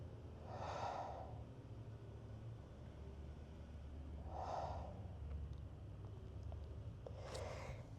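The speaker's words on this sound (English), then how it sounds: "and we just breathe here" Slow, deep breaths taken while resting in a yoga pose, heard as three soft, airy exhalations spaced several seconds apart, close and unhurried over a low steady background rumble.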